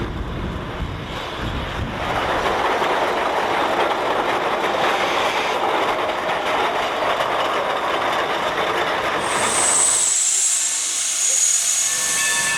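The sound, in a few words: Shay steam locomotive train arriving at Chinese mill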